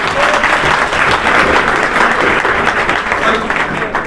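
An audience at a school opening ceremony in Haryana gives loud, sustained applause in welcome, a thick continuous wash of clapping throughout.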